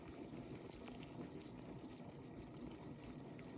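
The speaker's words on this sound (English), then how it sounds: "I want this to be like a good simmer" A pot of water at a gentle simmer, readied for poaching eggs, gives off a faint, steady bubbling and hiss with small irregular pops, fairly quiet and unbroken by talk.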